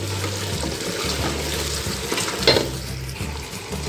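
Vegetables sautéing in a pan for Moroccan seven-vegetable couscous, a steady close sizzle with stirring scrapes and a brief clatter midway, no talk.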